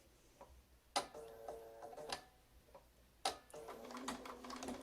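A sewing machine stitches a quilt block in short bursts of quick mechanical ticking and clacking, faint and close, with brief pauses between runs of stitches.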